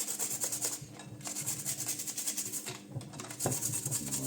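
Toothbrush bristles scrub plastic Ork model kit sprues in lukewarm water, giving a steady close rasping rub with brief pauses and short bursts, no talking.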